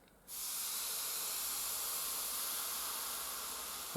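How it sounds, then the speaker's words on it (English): Steam hisses steadily from a household appliance, likely an iron drying fabric, starting abruptly after a brief quiet moment and continuing as a broad, even, close hiss. "You can see all that steam coming off there."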